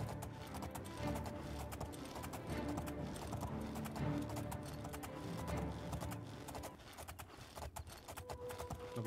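A horse ridden in the video game Oblivion clip-clops along in a steady, fast rhythm of hoofbeats, fairly faint and continuous throughout.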